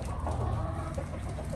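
Brooding hens sitting on a clutch of eggs in a garden give soft, low clucks and murmurs close by over a steady background, quiet and without speech.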